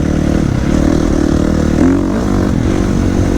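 A KTM 350 XCF dirt bike engine runs loud and close with a steady, throbbing idle that swells briefly in a short rev near the middle, on a day out riding.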